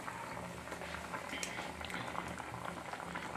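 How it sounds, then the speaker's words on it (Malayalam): A pot of potatoes with curry leaves and salt boils on a wood-fired stove, a steady soft bubbling and popping simmer close by and fairly quiet, with no voices. "ഉരുളക്കിഴങ്ങും കരിയാപ്പിലയും ഉപ്പിട്ട് വെന്തുകൊണ്ടിരിക്കുകയാണ്"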